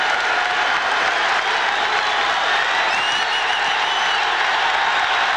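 Basketball arena crowd at a Kentucky vs Tennessee college game, a loud sustained roar of cheering and clapping filling the space, with faint whistles and shouts rising over it.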